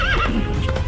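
A horse whinnies loudly and close, its rising and falling call layered over steady clip-clopping hooves, in a dramatized Hindi story scene of bandits stealing the horse from a cart.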